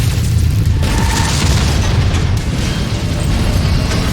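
Missile explosions in the mech combat game Mechwarrior 5, heard as a sustained loud, low booming rumble with dense crackling bursts filling the whole stretch, without speech.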